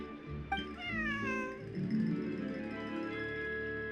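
A cat meows in Genshin Impact, one drawn-out, rising and falling meow that is close and clear, followed by a softer whine, over a low background score.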